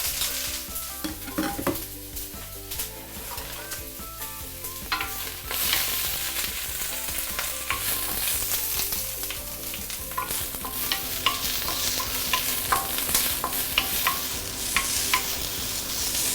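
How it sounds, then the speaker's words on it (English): Ginger and dried chili stir-fried in hot oil, a steady loud sizzle broken by frequent scraping and clattering of the spatula against the pan, no talking. "stir frying here. Put in some oil. And we want to enhance the flavor from our ginger"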